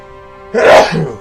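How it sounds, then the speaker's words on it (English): One loud, close sneeze bursts out after a moment of low background hum. "I gotta sneeze."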